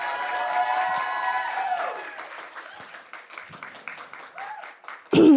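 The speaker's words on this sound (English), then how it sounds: "Let's give some snaps, claps, and cheers to Comrade Lover Lions and all the performers." Audience clapping and cheering for lion dance performers at a Lunar New Year gathering; the applause rises over fading sustained tones, thins out, then swells again in a loud burst at the end.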